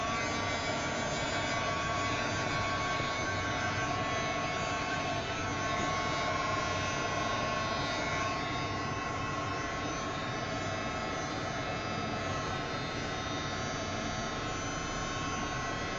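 A drying tool blows a steady, loud, unbroken whoosh and hum over a whitewashed mixed media canvas, holding an even level from start to finish with no voices.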